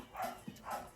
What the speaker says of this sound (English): that's the dog. I don't even know if you can hear this, like the noises. That's our dog.